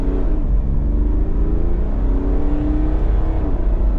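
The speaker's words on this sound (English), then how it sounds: "I'll give you a bit of an acceleration up to the 60." An INEOS Grenadier 4x4 SUV engine pulls steadily under acceleration up to 60 mph, a loud, continuous drone that slowly climbs in pitch with no voices.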